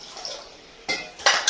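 Rice-washing water is poured into a pot of sambar, with two short, bright splashes and clatters of metal cookware rising from a quiet kitchen background.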